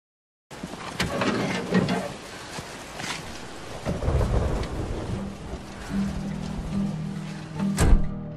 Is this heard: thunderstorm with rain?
yes